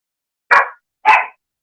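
An agitated pet dog named Roscoe gives two short, sharp barks about half a second apart, close and loud against silence.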